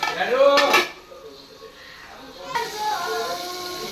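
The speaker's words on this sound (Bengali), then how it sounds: "এবার বন্ধুরা আমি এটাকে ঢেকে দেবো।" A metal lid clatters onto a pan of frying pointed gourd with a brief clang of cookware near the start, then quieter kitchen sounds and faint voices in the background.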